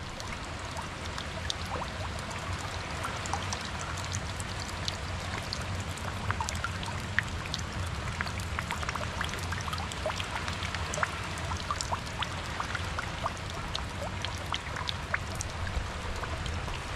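Sudden heavy rain pours down steadily over a garden of ornamental plants and onions, a dense continuous hiss with scattered sharper drops pattering close by.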